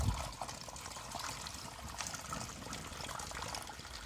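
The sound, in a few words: water poured into pop bottles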